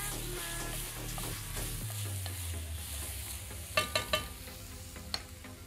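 Pieces of haddock for a curry are turned in a hot pan, with a steady background sizzle and a quick run of sharp utensil clacks partway through; nobody speaks.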